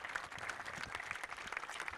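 Steady, moderately loud applause from an audience at a cricket league prize ceremony, a continuous dense patter of clapping with no pauses across the whole stretch.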